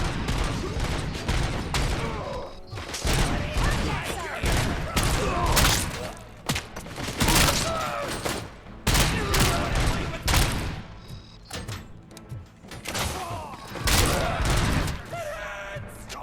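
Gunfire in Robocop: Rogue City, dense bursts of loud shots crackling in rapid clusters with brief pauses between volleys, sustained across the whole stretch, with faint voices underneath.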